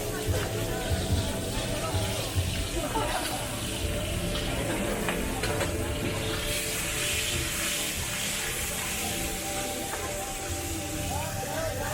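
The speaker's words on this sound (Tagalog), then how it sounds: "They're cooking up mee goreng, Malaysian food, like chicken, tofu." Mee goreng with chicken and tofu frying in oil at an Asian street food night market, heard as a steady loud sizzle and hiss throughout, with market bustle and voices mixed in.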